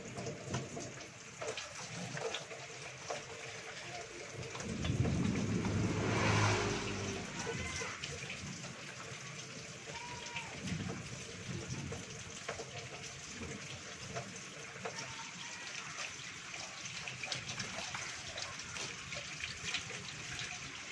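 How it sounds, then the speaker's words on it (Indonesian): Running tap water during handwashing before a neonatal care procedure, a steady low splash that swells into a fuller gush for a couple of seconds, then thins to a faint trickle and handling noise. "kita mencuci tangan dulu 6 langkah"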